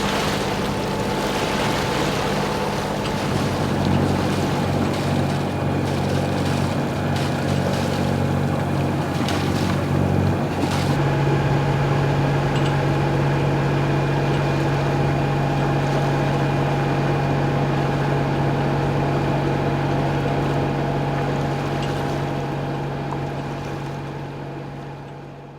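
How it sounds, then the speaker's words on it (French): A sailboat's engine drones steadily for a long stretch in light wind, a constant low motor hum with wind and water noise around it. "On termine au moteur, il n'y a presque plus de vent."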